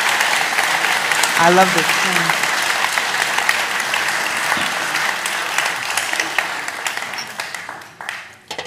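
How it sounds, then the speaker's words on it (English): A large audience gives a long, dense round of applause at a talk featuring Nikole Hannah-Jones, fairly loud and steady before thinning out toward the end, with a voice speaking briefly over it. "I expect a round of applause for Sister Nikole Hannah-Jones."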